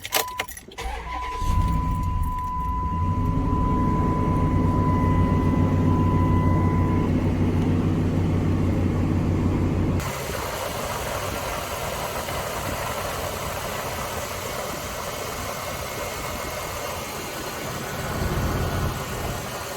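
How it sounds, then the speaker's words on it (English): A 1994 Ford Ranger pickup's engine is cranked and settles into a steady, close idle that runs unbroken throughout, with a brief rattle of keys at the start and the engine note dropping slightly partway through. "we're gonna crank it up and let her warm up here and see what the temperature goes to"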